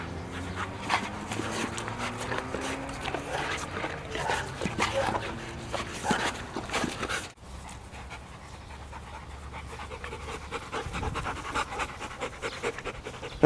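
Akita dogs pant heavily and scuffle during play, with quick rhythmic breaths, paw steps and occasional soft yips up close, then the activity quiets to lighter breathing.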